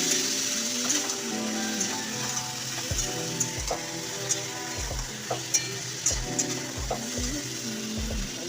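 Ginger paste fries in a pan for a vegetarian pumpkin curry, giving a steady close sizzle with scattered low thumps and scraping knocks from stirring, no voices.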